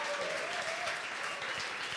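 Brief, faint applause rises from a small group honoring someone, a soft even patter of clapping with a hint of a voice in the background.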